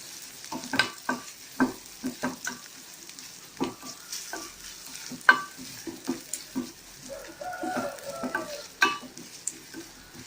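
Ground masala is stirred into onions frying in a pan for green gram curry: irregular spoon scrapes and knocks over a soft, low sizzle, close and fairly quiet.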